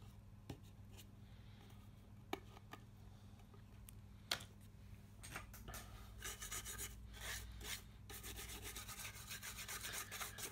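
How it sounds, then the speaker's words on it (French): Glue residue is rubbed and scraped off the chassis of an Alcatel Idol 4 phone during a screen replacement, with faint close-up scrubbing strokes, a few small ticks, and denser rubbing toward the end. "on enlève bien les résidus de colle."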